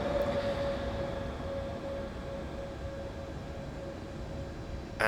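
Train in the Train Simulator 2015 game running over points on the London Bridge to Victoria route, a steady low rumble with a faint sustained tone, no talking.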